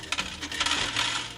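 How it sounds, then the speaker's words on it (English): An Abdtech automatic cat and dog feeder dispenses dry pet food in manual mode, a dense burst of rattling kibble pattering into a bowl, close and continuous. "I could feed the pet manually by just clicking on here,"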